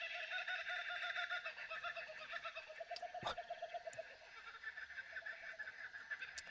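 Birds calling outdoors on a loud hilltop, a sparse sequence of chirps and clucking calls at moderate distance, with one sharp burst near the middle and faint background activity between calls.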